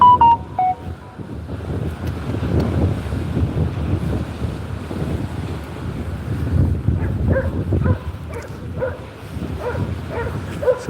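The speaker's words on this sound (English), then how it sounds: "So we have a noisy dog up here somewhere." A dog barking somewhere up on the cliff at Withernsea, repeated sharp barks at a distance mixed into heavy wind gusts and the rumble of a choppy sea.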